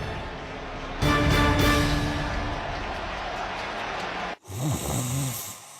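Heavy, rasping snores repeat in slow rhythmic breaths, loud and close, then a pause and a different, higher-pitched wavering snore follows, in a radio advertisement for Mattress Firm.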